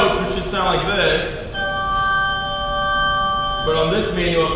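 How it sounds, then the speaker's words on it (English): A church pipe organ sounds three sustained notes together as a clean held chord for about two seconds, with a voice talking before and after it. "So I'm playing three notes, which should sound like this."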